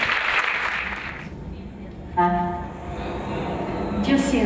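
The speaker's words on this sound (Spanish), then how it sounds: "¡Un fuerte aplauso!" Applause from an audience at a poetry and arts festival fills the first seconds and fades, followed by a voice speaking and a fresh swell of clapping at the end.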